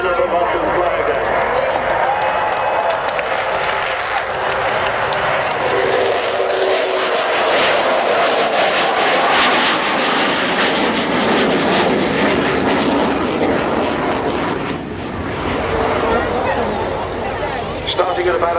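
Avro Vulcan bomber at an air display, its jet engines producing a loud sustained roar that builds and shifts as the aircraft passes, with a commentator talking over it throughout.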